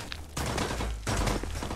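Gunfire in a VR shooter game: two dense, noisy bursts of rapid automatic fire, loud and close, separated by a short gap.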